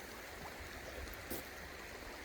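Water rushes steadily through a river sluice at a creek, a continuous broadband wash with a low rumble and no voices, fairly quiet and unbroken throughout.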